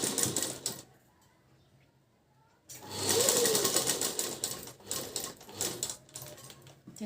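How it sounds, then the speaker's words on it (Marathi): A sewing machine runs a locking stitch through fabric: a loud, rapid mechanical rattle that stops for a quiet pause, then starts again and continues in uneven bursts. "शिलाई मारताना इथे पहिली लॉकिंग शिलाई मारायची आहे।"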